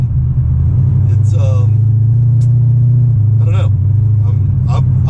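A C6 Corvette rumbles steadily with a deep, constant low engine drone while driving, close and loud, as someone talks over it throughout.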